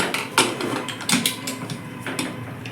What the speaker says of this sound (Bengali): এবারে কুকারের মুখটা আটকে দেবো